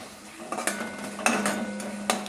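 Tomatoes sautéing in oil in a pan, heard as a few sharp metallic clinks and scrapes of a spoon against the pan over a low, faint sizzle, close and without speech.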